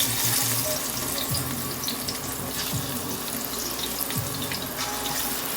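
Plantain slices fry in reused oil left over from Jamaican fried dumplings, giving a steady, close hiss and crackle throughout with no one talking.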